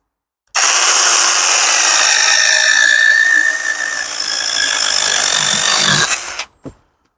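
A cordless 20V pole chainsaw whines loudly and steadily as it cuts through wood for several seconds, then winds down and stops with a clack.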